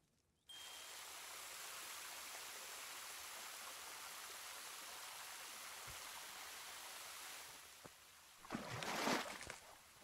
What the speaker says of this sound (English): Oh man, really? It's raining now.